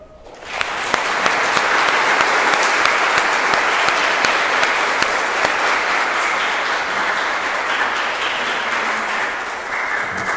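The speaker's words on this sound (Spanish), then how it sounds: "Damos un aplauso a Camila." Applause from guests at a quinceañera church ceremony, a thick sustained burst of clapping that swells quickly, stays loud and steady for several seconds with scattered sharper claps, then eases slightly near the end.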